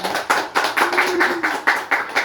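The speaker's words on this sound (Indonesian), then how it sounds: "Kita beri tepuk tangan buat teman kita yang sudah tampil." A classroom audience of students claps for classmates who have just performed a role-play, a steady run of close, fairly loud hand claps with rhythmic bursts.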